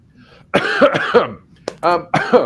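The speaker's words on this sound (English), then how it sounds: "I'm absolutely dying with a cough and cold here at the moment" Three or four harsh, chesty coughs close to the microphone, coming in short bursts with a brief pause between them.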